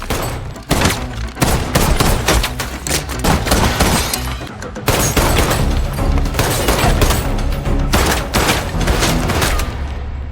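Gunshots ring out in a fierce film gunfight, a loud, dense barrage of rapid bangs and booms pressing on for the whole stretch, with only a brief lull midway before the fire resumes.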